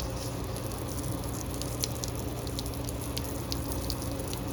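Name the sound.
water hose washing degreaser off an engine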